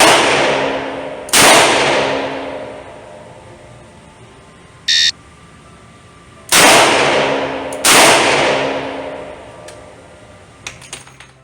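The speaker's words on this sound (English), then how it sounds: "On command, fire 2 rounds in 2 seconds and assume the ready position" A circa-1975 Colt Python revolver fired at a shooting range: loud, sharp shots with long ringing decays, one alone and then two in quick succession, separated by a short electronic timer beep. Faint clicks follow.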